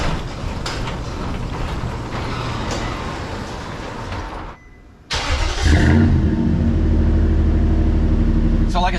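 A cold Nissan Titan pickup truck engine cranks and fires up after a brief lull, then settles into a loud, steady low rumble of running at close range.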